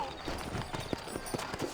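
Horse hooves clip-clop in the Western video game Red Dead Redemption, a few distinct hoofbeats at a slow, uneven walking pace, close and moderately loud over a soft ambient bed.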